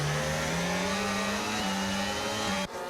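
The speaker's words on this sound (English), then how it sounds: "So you guys are able to hear the cars." Formula 1 race cars in the video game F1 25 on the Brazil circuit, a steady high engine drone with a rising pitch that cuts off abruptly near the end.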